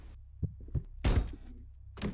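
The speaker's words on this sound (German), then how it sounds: "Dann hat er die Tür zugemacht." A ghostly door slam in the Ghost Watchers game: a few soft thuds lead into one heavy, booming shut, followed shortly by another dull thump, with no talk over it.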